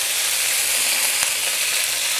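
Steady, dense sizzle of curry leaves dropped into hot oil, crackling continuously at close range with one brief sharp pop midway.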